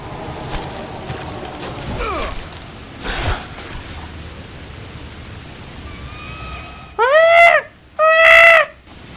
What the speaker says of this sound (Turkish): Kuş öyle ses çıkıyor